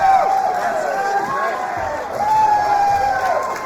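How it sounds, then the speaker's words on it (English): Crowd at a SuperFight fight event cheering and whooping loudly, a dense roar of many voices with rising shouts that swell near the end. "The crowd loves that."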